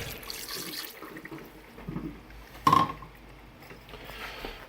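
Water runs and splashes steadily into a pressure cooker pot, with one sharp metallic clink partway through.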